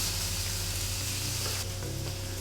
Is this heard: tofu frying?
yes